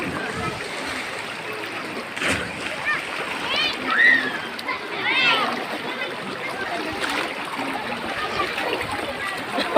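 People swim and splash in a river, with steady splashing and trickling water under the chatter of children and other voices.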